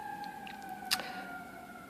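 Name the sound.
sirens going off in the distance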